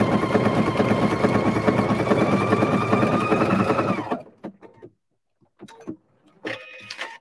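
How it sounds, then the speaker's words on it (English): A sewing machine fitted with a circular attachment stitches along a ribbon edge, its loud steady whir running for about four seconds before stopping, followed by a few faint clicks and a short final burst of motor. "I move the needle over so that it's gonna stitch along the edge and then just bite in ever so slightly to tack down the ribbon"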